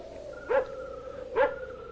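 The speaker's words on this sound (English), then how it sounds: "That barking dog." A dog barks twice in a radio mystery drama scene, two short evenly spaced woofs heard at a moderate distance over a quiet background hum.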